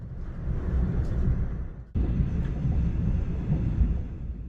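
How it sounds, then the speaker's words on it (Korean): Train rolling along the tracks past Daejeon Station, heard from inside the carriage as a steady low rumble with a brief dip partway, no talk. "기차는 대전역을 지나 계속 달려갑니다."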